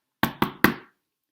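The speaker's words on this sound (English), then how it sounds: "Knock, knock, knock." Three firm knocks on a wooden door in a steady, evenly spaced rhythm, close and clear, each ringing briefly before silence, with no talk.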